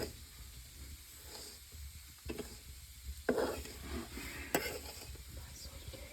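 A sesame mixture for Lohri tilchauli roasting in a pan while being stirred: steady, quiet scraping and rattling strokes over a soft sizzle, close by, with a couple of sharper scrapes and no talking.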